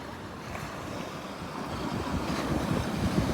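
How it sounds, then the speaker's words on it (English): Rough lake surf churned by a strong west wind, a steady broadband rush of waves with wind buffeting the microphone, building slightly louder toward the end, no voices. "All those little bumps are waves."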